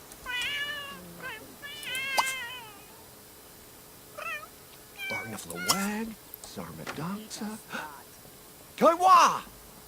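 A cat in The Sims 3 meows several times, close and clear in short rising and falling calls with gaps between them, while a person talks over the scene.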